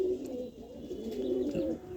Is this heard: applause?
no